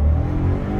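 A modified Daihatsu car's engine roars steadily and loudly from inside as it accelerates from 3000 RPM, a dense continuous drone with no break.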